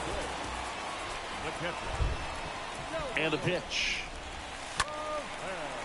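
Rain falls steadily during a baseball game in MLB The Show 22, a continuous hiss across the whole stretch beneath stadium ambience while a commentator talks.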